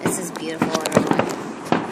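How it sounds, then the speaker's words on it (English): Fireworks explode in a rapid series of close, sharp bangs and crackles at an early Fourth of July display, mixed with people talking. "I hope you all are enjoying the fireworks."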